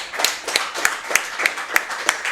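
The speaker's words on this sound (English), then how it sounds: "let's give him a round of applause" Applause from a small crowd at a speedrunning event, a steady patter of claps with sharp individual hits, fairly close and continuing throughout without any talking.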